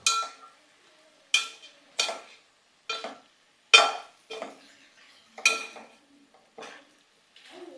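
A spoon stirs cauliflower curry in a pan, making about eight separate scraping strokes at a slow, uneven pace, with quiet gaps between them.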